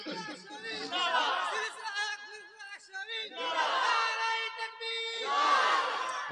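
A large crowd at an Islamic religious gathering in Taldi loudly shouts takbir in several massed bursts of voices, rising and falling close by with overlapping calls.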